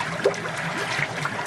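Water trickling and draining away from a koi pond filter tub, with air still bubbling through to keep dirt afloat; a steady, close, moderately quiet gurgling flow without speech.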